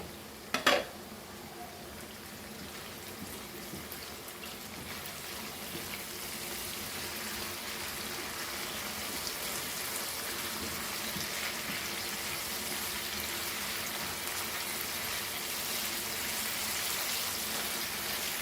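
Fish liver frying with masala in an open pan, a soft continuous sizzle throughout, fairly quiet, with a brief utensil clink near the start and no talking.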